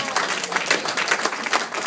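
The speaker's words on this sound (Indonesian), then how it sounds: "berikan tepuk tangan yang meriah" A church congregation bursts into sustained, dense applause, many hands clapping together at close range for the full two seconds.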